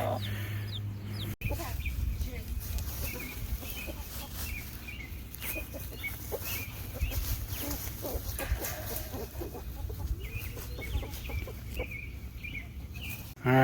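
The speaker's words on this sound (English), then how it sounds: "Alright, so the chickens are on the loose" Loose chickens cluck and murmur repeatedly near a coop, with soft scattered calls and rustling throughout and a brief knock early on.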